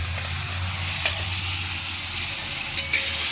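Vegetables with pigeon peas stir-frying in hot oil, a steady close sizzle with a few sharp scraping knocks of the stirring utensil, no speech.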